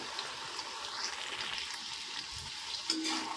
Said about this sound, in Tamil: இப்போ ஃப்ரை ஆகிட்டு இருக்கு பாருங்கள்.